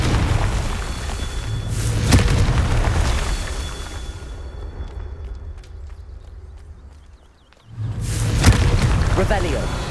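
Confringo blasting spells go off in Hogwarts Legacy, loud booming explosions near 2 and 8 seconds over game music and ambience, with a shouted voice in the clip.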